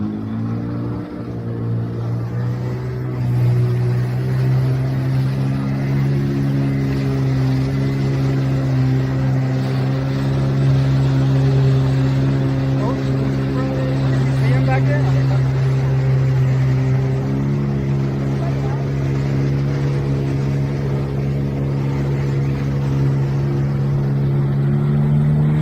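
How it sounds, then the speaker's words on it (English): A jet ski engine drones steadily on open water while following a boat, a strong, continuous hum with slight rises and dips in pitch, loud and close throughout with no talking. "let me show you jet skiing. Here we go. We're following a boat"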